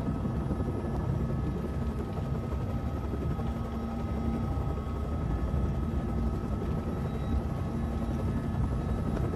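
A helicopter drones continuously, its rotor thrum and engine whine steady and close with no breaks.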